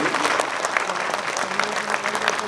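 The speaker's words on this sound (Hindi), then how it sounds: "जरा दोनों हाथ खड़े करके तालियां दे दीजिए" An audience at a Hindi poetry gathering claps steadily and fairly loudly, a dense even patter of many hands that holds throughout without any voices on top.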